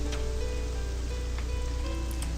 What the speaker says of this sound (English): Raining for weeks in this town, it feels like.